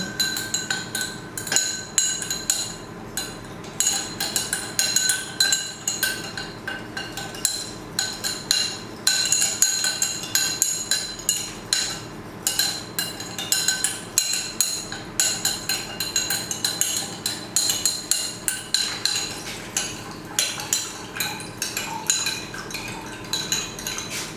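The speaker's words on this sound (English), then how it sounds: "I'm just going to mix that in." Vitamin C face cream water phase being mixed by hand, a utensil scraping and clinking rapidly and steadily against a container for over twenty seconds, close and fairly loud with no talking.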